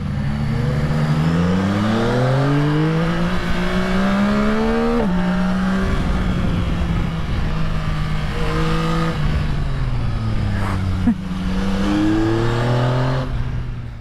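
A 2025 Yamaha Tracer 9 GT+ motorcycle accelerates hard on the road, its engine pitch climbing through several gear changes with a steady loud drone and rushing wind throughout.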